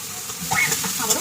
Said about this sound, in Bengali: পেঁয়াজটা ভাজা ভাজা হবে, তারপরে টমেটো দিয়ে দেবো।